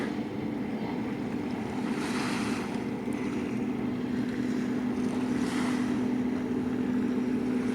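A motorboat engine drones steadily on a river near Yakutsk river port, a constant low hum mixed with wind buffeting the microphone and light lapping waves.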